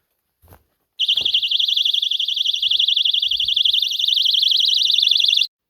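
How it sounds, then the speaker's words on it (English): A homemade trip-wire perimeter alarm at a wildlife reserve campsite, triggered when walked through, blares a loud, shrill warbling electronic tone continuously for several seconds after a brief footstep-like knock. "The alarm was a success."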